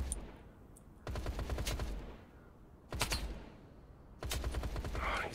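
Gunfire in the video game Industria, three loud bursts of rapid shots in quick strings, each lasting about a second, separated by quieter ambient game noise.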